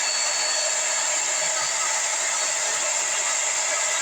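A hair dryer blows hot air to warm mustache wax, giving a steady, close, bright hiss and whoosh that stays even from start to finish with no talk.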